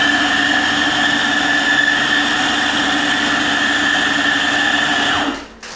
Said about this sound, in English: when I insert the filter holder here, then it should grind for the time of 6 seconds